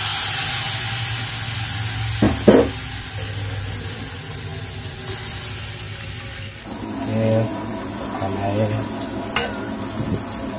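Smoked fish sizzles in a pan with ginger and onion, a continuous close frying hiss with occasional stirring clanks and scrapes of a utensil against the pan, while faint background noise runs underneath.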